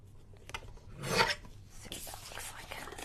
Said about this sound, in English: let me cut this down to yay about 1/4 of an inch off